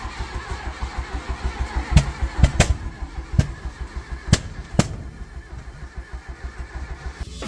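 Mk1 Volkswagen Golf engine running after a revival, a steady rapid rumbling idle with a few sharp clicks and bangs over it, loud and close.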